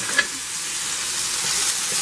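Meat sizzling and frying in a hot pan while being stirred around in its juices, a steady close hiss with faint scraping, no voices.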